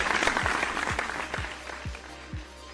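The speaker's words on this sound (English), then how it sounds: "Let's give them a big round of applause." Audience applause at a Vocal Fusion singing competition show, a brief burst of crowd clapping that swells and fades within a few seconds.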